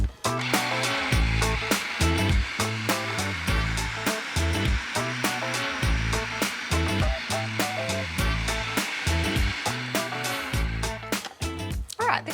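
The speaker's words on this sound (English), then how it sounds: "I'm going to give this a really good blend until everything is combined." A countertop blender whirs steadily through roasted zucchini dip while olive oil is drizzled in, the motor loud and continuous with a pulsing, choppy texture.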